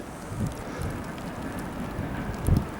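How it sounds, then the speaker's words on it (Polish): Strong wind with falling snow on top of the Round Tower in Copenhagen, a low steady buffeting roar across the microphone with a couple of louder gusts. "Bardzo wieje, śnieg pada"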